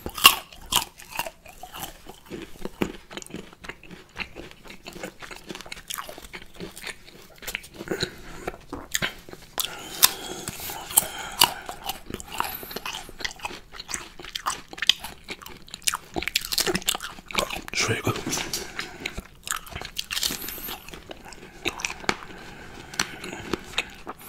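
Crunchy Thai white guava is bitten and chewed close to the mic, with sharp crisp crunches and wet chewing repeating steadily, sometimes faint, with no talking.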